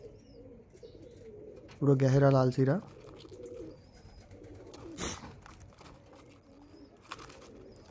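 Mangalagiri-line pigeons in a sale loft coo softly in the background while someone speaks briefly, followed by a sharp knock and quieter stretches.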